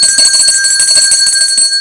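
A bell rings as a sound effect on a Haitian morning debate broadcast, with a loud, steady metallic ringing that holds for about two seconds with a quick trembling pulse and no talking.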